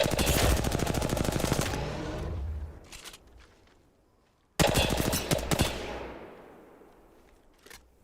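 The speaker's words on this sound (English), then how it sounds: "Opening fire." Automatic gunfire in Apex Legends, two long loud bursts of rapid shots separated by a short lull, each ringing off into a fading tail.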